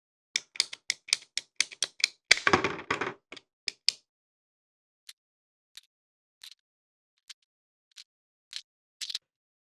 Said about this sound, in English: This is kind of a ratcheting tool. Look how simple that cuts.